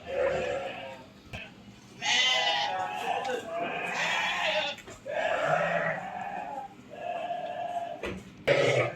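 Rams on a farm bleat repeatedly in loud, wavering calls from close by, several bleats overlapping and following one another, with brief gaps and a few sharp knocks between them.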